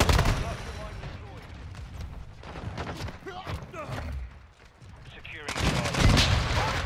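Rapid video game gunfire on the Shipment map of a Call of Duty match: dense bursts of automatic shots and scattered single cracks, with players talking over the shooting throughout.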